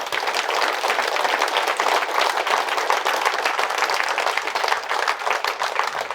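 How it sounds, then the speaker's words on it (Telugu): An audience claps loudly and continuously, a dense, even patter of many hands that holds steady from start to finish. "అటువంటి ఈ శ్వాస గట్టిగా చప్పట్లు కొడదాం"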